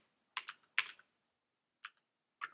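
Clattering bursts of computer keyboard typing, spaced into four short clusters of rapid keystrokes with silent pauses between, close and fairly quiet, while someone enters code.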